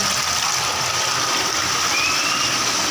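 Steady rushing water pours continuously, a dense broadband splash like a small cascade, loud and close with no pauses.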